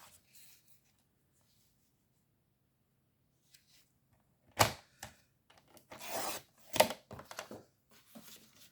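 Paper being cut for a scrapbook album page with an easy-fold design. After a long quiet stretch comes a few sharp, crisp cutting strokes, then short rustling and scraping, all close and fairly soft.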